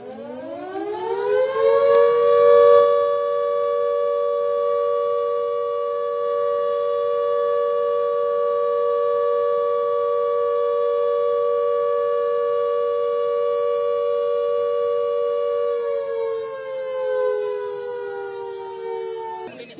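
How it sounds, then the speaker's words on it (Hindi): A loud long-range civil defense siren in an Uttarakhand city wails steadily, rising at the start, holding one long sustained tone, then sliding down near the end. "शहर में 13 जगह आधुनिक लंबी दूरी तक आवाज पहुंचाने वाले सायरन भी स्थापित किए गए।"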